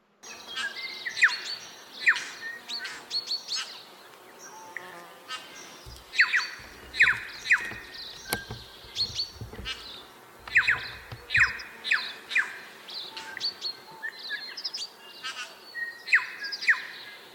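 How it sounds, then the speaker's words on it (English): Several New Zealand birds sing and chirp in the morning in the Kaweka Range, in bright, varied phrases, some near and some farther off, with a soft low rumble passing midway. "listening to a beautiful song by the New Zealand birds"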